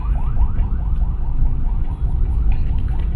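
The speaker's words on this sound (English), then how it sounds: "there's an ambulance" An ambulance siren rises and falls repeatedly over a loud, steady road rumble in the Philippines, heard from inside a moving vehicle.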